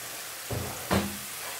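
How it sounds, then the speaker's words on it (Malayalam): Masala paste for Kerala fish masala sautéing in coconut oil, a steady soft sizzle broken by two short, louder bursts as the paste is stirred in the pan. "ഈ അരപ്പ് നന്നായിട്ട് വഴന്നു വരുന്നു"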